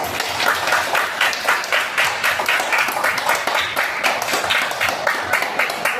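A classroom of students claps together during an open lesson, a dense, steady round of applause close by with a lively pulse and almost no talking.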